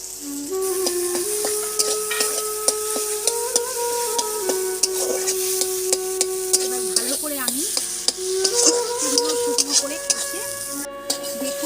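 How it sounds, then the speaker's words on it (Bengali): Mashed elephant foot yam being stirred into oil-released fried spice paste in a wok, with a spatula scraping steadily over a continuous sizzle and occasional clinks against the pan, under background music. "এই অবস্থাতে এই ওল মাখাটা দিয়ে দেবো"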